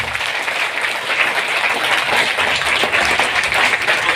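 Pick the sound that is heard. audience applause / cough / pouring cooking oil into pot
audience applause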